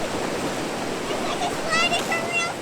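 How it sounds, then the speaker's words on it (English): Continuous roar of river rapids and a waterfall on an undammed river, close and steady, with faint bird chirps high above near the end. "You can see the beautiful falls behind me."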